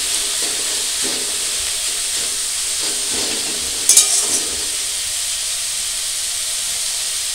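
Susni saag greens sizzle and steam in a pan, a steady loud hiss that runs throughout with a brief crackling burst near the middle.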